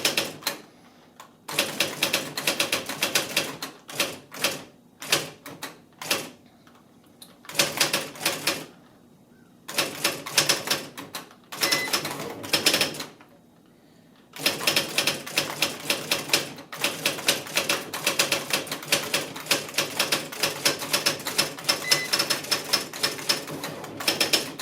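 An IBM Wheelwriter electronic typewriter types in rapid mechanical bursts, dense rattling strikes in runs separated by brief pauses, close and clear with no talking.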